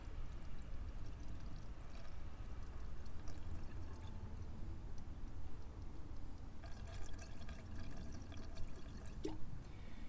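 SeaFoam engine treatment being poured from a 16-ounce bottle into a 2016 Ram 1500 Rebel, a soft steady gurgling trickle of liquid that runs throughout, faint and close, without talk.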